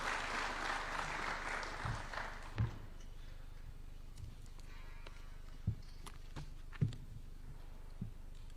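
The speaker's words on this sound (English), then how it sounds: "Why don't we welcome him with a warm clap as he approaches the stage" Applause welcoming a speaker to the stage at a university launch event in Nairobi, a wash of clapping in the first few seconds that fades, leaving a quiet room with scattered taps and footsteps.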